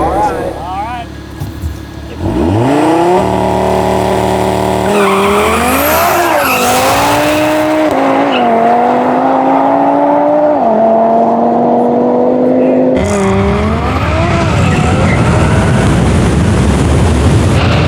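Lucid Air Sapphire electric sedan, 1234 hp, drag racing a 1000 hp Audi TT RS: loud engine revving and rising acceleration whine with tire squeal, continuous at close range, with people talking over it.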